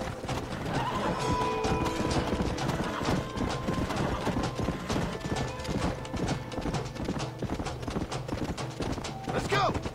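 Horses in the video game Red Dead Redemption clip-clop and whinny amid a busy mix of clanks and mechanical noise, with a loud neigh rising near the end.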